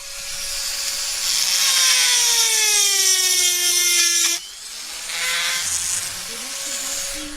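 A power tool grinds a rivet on a handmade knife, giving a shrill, dentist-drill-like whine with sliding pitch. It cuts off abruptly midway, then resumes more softly, close and loud throughout.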